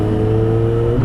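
A motorcycle with a loud aftermarket brong exhaust revs close by, holding a steady droning engine tone with strong harmonics for about a second and nothing else.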